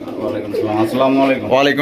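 Pigeons coo in a low, steady, overlapping murmur at a busy pigeon market, with someone talking loudly over them throughout.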